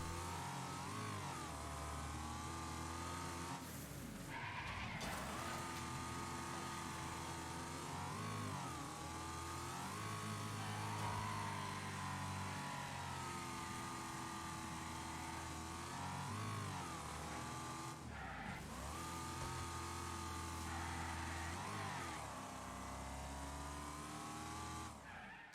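A racing truck in the video game Super Truck Showdown drives continuously, its engine droning and revving with repeated tire squeals and skids, loud and steady with no talk.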